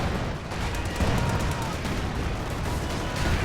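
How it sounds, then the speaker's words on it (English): Battle noise from Company of Heroes 2, a grenade blast among dense gunfire and rumbling combat in a 2v2 match, loud and continuous with no clear single peak. "Ooh, nasty grenade there."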